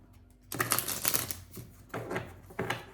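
Tarot cards are shuffled close by in several quick, soft riffling bursts, fairly quiet, after a brief hush.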